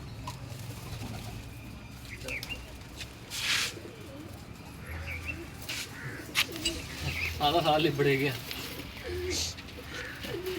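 Soft coos of pigeons being painted recur through the background while someone talks over them, with some chirps and rustling nearby.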